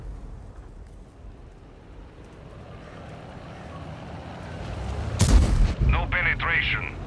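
In the World of Tanks video game, a tank cannon fires one heavy boom about two thirds of the way through, over a rising engine rumble and followed by metallic ringing.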